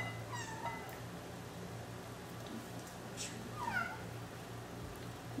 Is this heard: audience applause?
no